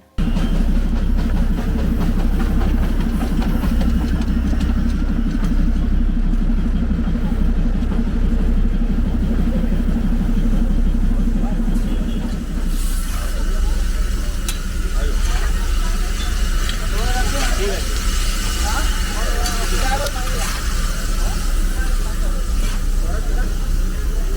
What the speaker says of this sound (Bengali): একটা ট্রেন থেকেই এরকম ইঞ্জিনটা খুলে পুরো স্টেশনটাকে রাউন্ড করে ওই পারে গিয়ে